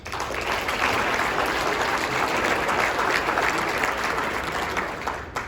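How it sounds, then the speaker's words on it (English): A room full of people gives steady applause for a city council at a State of the City address, dense clapping sustained for several seconds before tapering slightly. "Please give them a round of applause."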